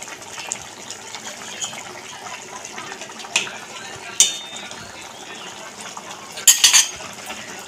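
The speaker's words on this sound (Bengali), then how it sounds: "একটা আলু এরমভাবেই হাতা দিয়ে একটুখানি গলিয়ে নেব" A metal ladle scrapes and presses a potato against the pot in a Bengali tangra fish curry with potato, giving scattered soft clinks and a few sharper scrapes near the end, with no talking.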